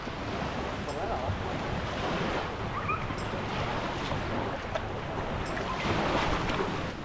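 Artificial waves roll through a wave pool at a water park in Pattaya, a steady broadband wash of churning water with wind noise on the microphone and no clear voices.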